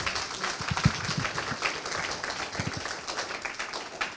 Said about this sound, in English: Hey, how about let's give Alex another round of applause.